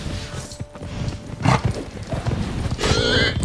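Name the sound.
wild boars in The Witcher 3 video game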